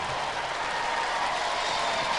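An arena crowd roars in steady, dense cheering and applause during a Robot Wars heat, the noise washing continuously without a break.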